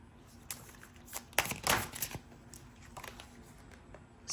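Tarot cards shuffled and drawn, a quiet, close run of soft riffling flicks and taps clustering in the middle, with faint background noise.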